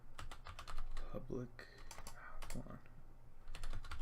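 Someone types on a new computer keyboard, making quick irregular bursts of close, crisp key clicks, with brief murmured speech in between.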